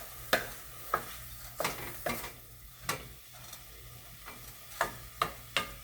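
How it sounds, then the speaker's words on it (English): Diced green peppers frying in a pan, stirred with repeated scraping strokes that land in an irregular rhythm over a soft, continuous sizzle, close by with no talk. "Taking a while for these green peppers to get translucent. I just gotta stir them up a little bit more."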